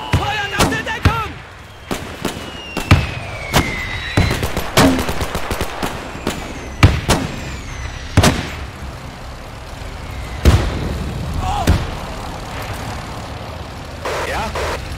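Battle in the WWII strategy game Men of War II: sharp gunshots, machine-gun bursts and booming artillery crack repeatedly at close range over an ongoing rumble, with voices shouting at times.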